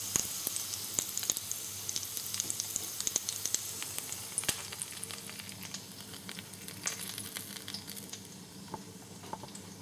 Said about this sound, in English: our plantain roll that we just finished off frying